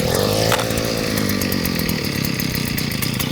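Cobra T24C petrol garden tiller engine, choke off, revving up and running steadily after starting, a loud continuous buzzing drone close by with no talking.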